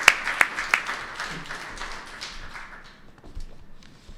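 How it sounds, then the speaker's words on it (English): Brief audience applause for the Shriver Center speakers at a talk on criminal records and subsidized housing, opening with a few sharp claps, then fading into a soft, scattered patter. "can I get some applause for them?"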